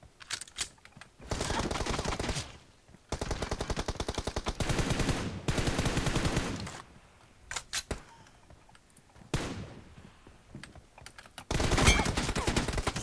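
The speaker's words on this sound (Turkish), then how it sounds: "Güzel vurdum, güzel headshot." Repeated bursts of automatic rifle fire in PUBG Mobile, several sustained volleys separated by short gaps, close and loud, with a few single shots in between.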